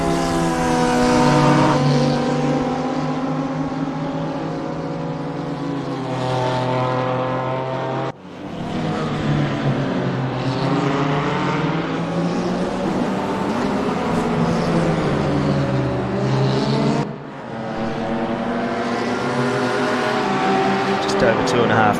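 Sim race cars running in groups during a Tuesday Thunder online race, multiple engines droning and whining continuously with rising and falling pitch as they pass, loud and steady with brief dips between gear changes.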